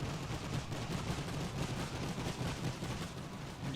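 Rapid machine gun fire in a World War I video game battle, a dense unbroken rattle of shots with booming gunfire mixed in, loud and continuous throughout.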